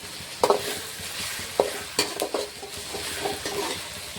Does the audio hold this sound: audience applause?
no